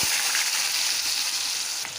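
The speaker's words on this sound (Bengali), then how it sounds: "কড়াইয়ের মধ্যে তেল বসিয়ে দিয়েছি তেলটা গরম হয়ে গেছে এখন আমি আলুটাকে আগে ভিজে নেব" Potatoes fry in hot oil in a wok, giving a loud, steady, dense sizzle that holds for the full two seconds with no voices.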